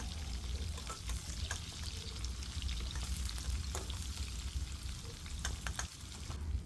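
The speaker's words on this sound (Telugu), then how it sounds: "కొంచెం ఇవి వేగాక ఉల్లిపాయ పీసెస్ వేసుకోండి. ఒకసారి మొత్తం మిక్స్ చేసుకోండి." Potatoes frying in a pan with onion pieces give a steady, soft crackling sizzle broken by intermittent scrapes and taps as a spoon stirs them, heard fairly quietly throughout.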